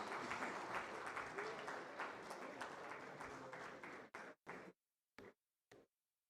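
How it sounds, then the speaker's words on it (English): Audience applause at a startup summit, a steady wash of many hands clapping that fades out around four seconds, followed by a few scattered last claps. "Let's give them a round of applause."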